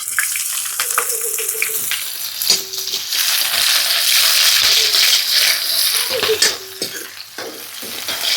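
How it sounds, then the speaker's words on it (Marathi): Onion frying in hot oil with red chili, a loud, steady close sizzle with a spoon scraping and stirring through the pan throughout. "याच्यामध्ये पहिले सुरुवातीला मी लाल मिरची टाकून देते. ते व्यवस्थित झाली म्हणजे आता टाकते कांदा."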